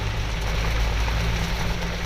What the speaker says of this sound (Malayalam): ഒന്നാന്തരം മഴയാണ്